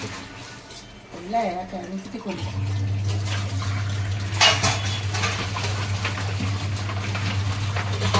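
A household tap runs with reduced water pressure, giving a steady rushing flow over a low constant hum, with occasional clinks of dishes and utensils nearby.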